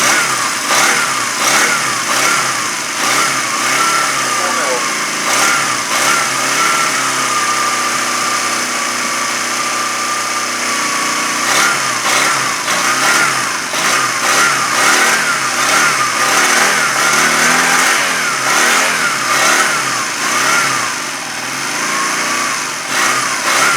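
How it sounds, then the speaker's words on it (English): A Honda CM200T Twinstar motorcycle engine runs on choke, idling unevenly and rising and falling in revs at close range, with no voices over it. "Still don't want to start without that choke."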